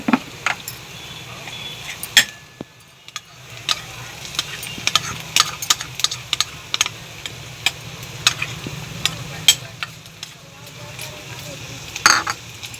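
Green chilies sautéing with reddened onion in a pan for a Marathi methi bhaji, a soft continuous sizzle punctuated by sharp spoon-against-pan scrapes and clinks, close and moderately loud.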